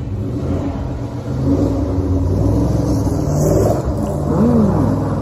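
An old school American muscle car with a big engine on the hood revs loudly and close at a burnout day, a deep rumbling roar that swells and holds with rising and falling pitch.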